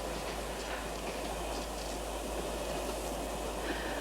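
A train runs on rails, a continuous rumbling roll with faint rattling and a low hum throughout, steady and fairly close.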